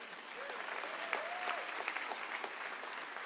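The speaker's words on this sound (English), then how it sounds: "give yourselves a round of applause for coming out in the snow" A seated audience at a snowy-night MLK lecture applauds itself, with steady, moderately faint clapping and a brief voice or whistle sliding over it early on.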